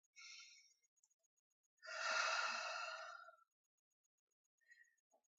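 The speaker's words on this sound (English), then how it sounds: "take a nice deep breath" Someone takes a slow deep breath: a short soft inhale, a pause, then a longer, fuller breath out, close and quiet against near silence.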